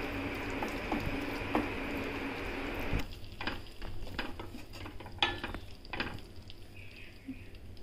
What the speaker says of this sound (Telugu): ఈ టొమాటో ప్యూరీ వేసుకున్నాక ఆయిల్ బయటకు వచ్చే వరకు కంపల్సరీ మగ్గించుకోవాలి